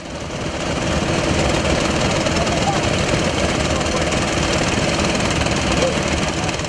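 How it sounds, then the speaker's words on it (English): A heavy Chinese-made chanfa engine on a river gold-dredging boat drones loudly and continuously with a rough, knocking chug, close by and unchanging. "a Chinese-made engine, chanfa, which powers the vessel to move and pump the gravels up from under the river"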